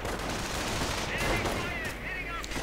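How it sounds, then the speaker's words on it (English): Rifle fire crackles through a World War II video game battle as riflemen come under attack, a continuous dense rattle of shots with mortar combat nearby, loud and sustained throughout. "Coming under quite a bit of fire from riflemen though."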